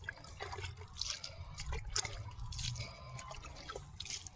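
Quiet trickling and dripping of water poured around a freshly planted sapling, steady and close, with no one talking.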